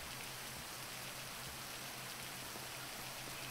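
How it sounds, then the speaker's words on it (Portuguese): Steady video game rain pouring down in a continuous even hiss, with a low constant hum underneath and no voices. "Barulho de chuva."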